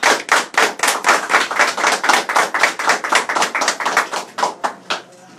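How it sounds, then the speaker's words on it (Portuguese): An audience claps for Ubaldino Júnior, a steady run of distinct, close hand claps that rises briefly, then thins out and stops. "Então, galera, aplaudam o Baldino Júnior."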